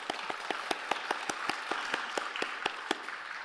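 Applause at a church training commissioning service, a steady run of clear, evenly spaced claps standing out over a soft wash of crowd noise.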